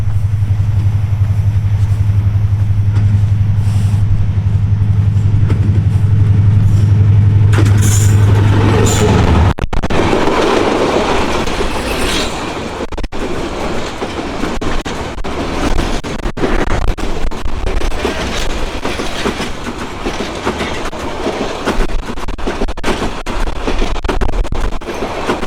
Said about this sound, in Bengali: ট্রেন আসতেছে, বুড়িমারি ট্রেন।